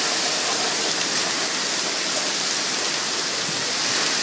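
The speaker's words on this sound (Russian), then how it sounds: "вы слышите сейчас шум урагана" A roaring wash of hurricane wind and heavy rain, a continuous dense rush with no pauses, loud and close.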